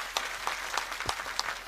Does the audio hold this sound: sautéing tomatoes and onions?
no